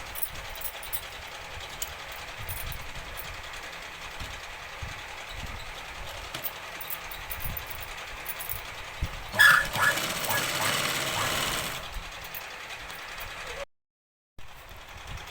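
A sewing machine runs a line of stitching along the top of Punjabi dress pants, making a steady mechanical whir and rattle that grows louder for a couple of seconds, then cuts out briefly near the end.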